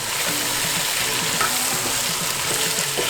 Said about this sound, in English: We just need oil enough to saute this gravy. So you keep stirring it.